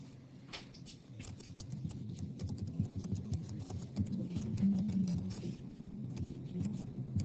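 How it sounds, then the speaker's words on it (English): Rapid, irregular clicks of computer keyboard typing run steadily throughout at moderate level, over a low background hum and faint murmuring, during a geometry test review. "I will type it."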